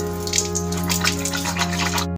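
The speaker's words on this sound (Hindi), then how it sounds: "ये देखिए दोस्तों पानी आना चालू हो गया" Water runs steadily from a household tap fed by a plastic tank, a continuous close splashing flow with a low hum beneath it, then it cuts off abruptly at the end.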